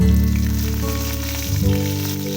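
Two dried red chillies dropped into hot oil with garlic cloves, a loud steady sizzle and crackle with tonal hum underneath, close and continuous.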